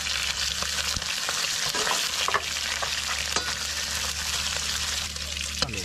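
Abalone frying in a pan on a fishing boat in the South China Sea gives a loud, continuous sizzle with occasional stirring clinks and scrapes, and no voices.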